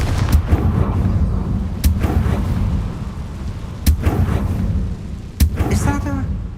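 Confringo fire spell blasts in the video game Hogwarts Legacy: four sharp explosive bangs spaced about two seconds apart, each trailing into a low rumbling roar over a continuous heavy background.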